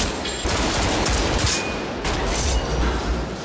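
Heavy gunfire erupts during a gang fight scene in a Japanese yakuza film, a dense, loud, continuous barrage of overlapping shots and blasts filling the whole stretch.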